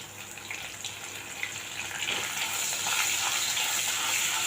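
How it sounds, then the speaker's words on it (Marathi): Chopped garlic and curry leaves frying in hot oil for a Maharashtrian chilli tempering, a dense continuous hiss that swells and thickens toward the end, close by, with no voices. "चांगलं परतून घेऊया आता लसूण तेलामध्ये"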